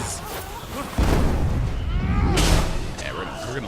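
Explosions during combat in the video game Hand of Fate 2: a heavy boom hits suddenly and rumbles on, followed by another burst, loud and close, with a voice partly heard over the blasts.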